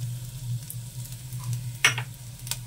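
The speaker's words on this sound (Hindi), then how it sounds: "इसी कढ़ाई में हम डाल देंगे मसाले को जो हमने कूटा था" Pounded ground spices dropped into hot oil in a kadhai, giving a soft steady sizzle with a couple of brief sharper crackles near the end, heard close with no talk.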